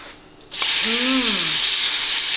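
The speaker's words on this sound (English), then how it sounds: "I'm just gonna sear the steak for 1 minute" Steak searing in hot cooking oil in a pan, a loud steady hiss that starts suddenly and continues, with a brief higher whine over it.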